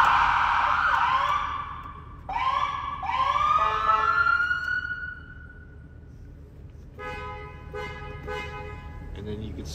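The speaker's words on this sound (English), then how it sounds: "Your siren." The siren of a 2011 Ford E350 Type II ambulance wails in a few rising and falling sweeps close by, then switches to a series of steady electronic horn tones.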